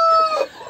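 Young broiler chicks in a brooder give a brief burst of high, thin peeping, several close overlapping cheeps that fade quickly.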